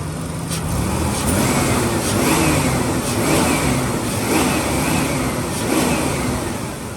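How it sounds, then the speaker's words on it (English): A 2003 Ford Explorer Sport Trac XLT 4x4 engine revving steadily, heard close with a broad, continuous drone that swells and eases several times, no talk over it. "let me rev it up a little bit here for you"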